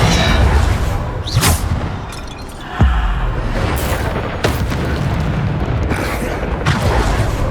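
Bombarda explosion spells in the Hogwarts Legacy video game, played on hard difficulty: several booming blasts, a sharp one near the middle and others spread through a dense, noisy battle mix with sustained rumble.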